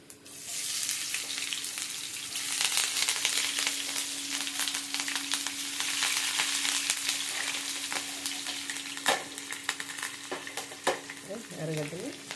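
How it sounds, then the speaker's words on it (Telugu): Onions sizzling in hot oil with urad dal and fenugreek seeds, a loud, continuous crackling fry with scattered pops and the scrape of a stirring spoon, close up, with no talking. "ఇది వేగితే ఇప్పుడు దీనిలో ఎర్రగడ్డలు వేసేస్తాము"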